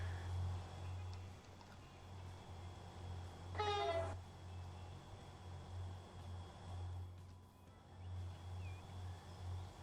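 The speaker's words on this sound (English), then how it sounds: "That train is loud." Train running on a line in the Transport Fever 2 video game, a steady low rumble throughout with a brief high tonal squeal partway through.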